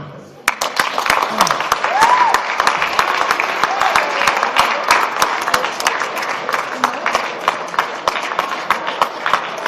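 A crowd applauds continuously, with sharp individual claps standing out over a dense, loud wash of clapping.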